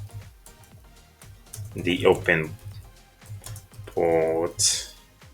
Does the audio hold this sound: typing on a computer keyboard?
yes